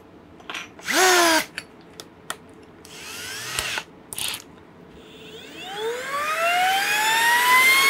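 A handheld power drill boring a pilot hole during a trailer tray installation: short clicking bursts and a brief spin, then the motor whines up in rising pitch, loud and close, with no talking.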